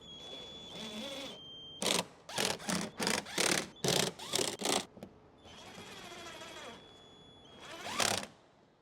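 Bolts on a Jeep rear window are driven back in with a power tool, giving a rapid series of short, loud, close whirring bursts, about eight in a row, between quieter stretches of handling noise.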